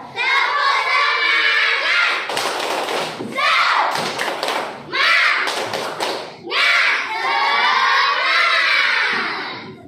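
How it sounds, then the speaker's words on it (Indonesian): A group of children claps and shouts together in bursts, a lively rhythmic cheer with pauses between rounds. "Sebelumnya tepuk semangat dulu untuk anak-anak hebat. Tepuk semangat."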